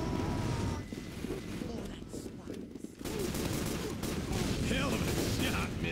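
Gunfire crackles in a dense, continuous fusillade over heavy wind-like roar and rumble, loud and sustained with a brief lull, while voices shout underneath.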